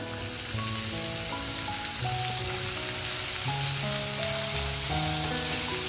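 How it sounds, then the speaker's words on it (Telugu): Spring onions sizzling in hot oil make a dense, steady crackle that runs close and unbroken throughout, with no voices over it. "ఓకే ఆయిల్ హీట్ అయిన తర్వాత డైరెక్ట్ ఉల్లికాయలు వేసేయడమే"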